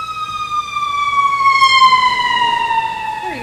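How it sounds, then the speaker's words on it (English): Loud emergency vehicle siren with a steady tone sliding gradually lower in pitch as the vehicle passes close by, traffic rumble underneath. "let this siren go by"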